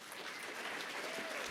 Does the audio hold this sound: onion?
no